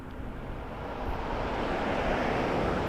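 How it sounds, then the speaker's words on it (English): An Embraer 175 airliner passing at Toronto Pearson Airport, a broad steady jet roar that swells and holds loud over a few seconds, with no talking. "Embraer 175."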